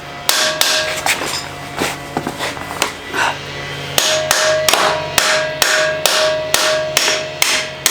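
Sharp metal hammer strikes ring out while working on a 1978 Honda XL 175 motorcycle, first irregular scattered blows, then a steady rhythmic run of loud close hits with a ringing metallic tone.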